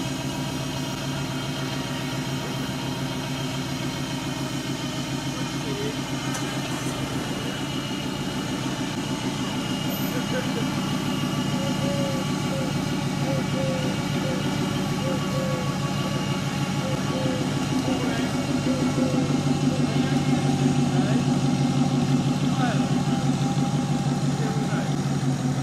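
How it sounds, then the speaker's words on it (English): A 1966 Ford Anglia with a 5-litre engine runs at a classic car show, a steady idling rumble holding throughout with a slight rise toward the end, while people talk over it. "This nice 1966 Ford Anglia with a 5-litre engine"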